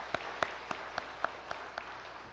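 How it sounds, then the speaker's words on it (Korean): A congregation claps at a Sunday service in a Methodist church in Incheon after the choir and orchestra finish. Sharp, evenly spaced claps sound in a steady rhythm over a quiet, diffuse wash of applause. "박수 한번 하겠습니다."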